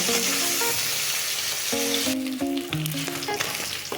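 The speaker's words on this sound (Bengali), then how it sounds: "মাছটা এখন উল্টিয়ে পাল্টিয়ে ভালো করে লাল লাল করে ভেজে নেব" Steady, close sizzle of fish frying in hot oil in a pan for a mixed-fish curry, alongside background music, the crackle thinning slightly toward the end.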